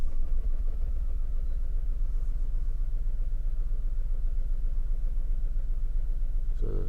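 A car engine idles with a cylinder 2 plug lead pulled to force a misfire, giving a steady low rumble with uneven pulsing throughout.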